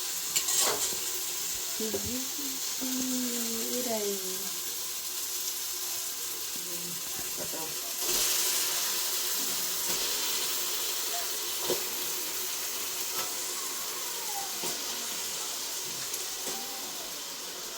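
Mutton liver goes into a pan of sautéed tomato, ginger and garlic paste, giving a soft, steady sizzle with a brief louder hiss partway through and a few faint scrapes, no talking.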